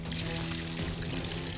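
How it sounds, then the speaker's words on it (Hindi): Water pours steadily from a pipe into a flooded paddy field, a continuous loud gushing stream with faint voices in the background. "अरे अरे उधर पानी छोड़ो ना"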